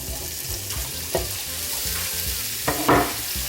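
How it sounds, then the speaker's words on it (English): Smoked sausages fry in a hot skillet with a constant crackling sizzle, interrupted by a few sharp clanks and scrapes of stirring, close and with no talk. "My skillet is hot, so I'm going to add all my smoked sausages into the skillet."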